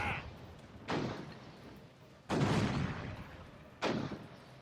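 Three sharp booming ship cannon shots in the VR game Furious Seas go off a second or so apart, each a sudden burst that fades quickly into a quiet background.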